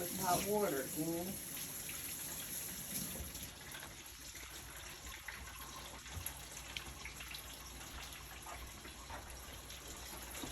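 Hot water gushes steadily from a kitchen tap for several seconds, continuous and moderately loud, with a short stretch of talking at the start.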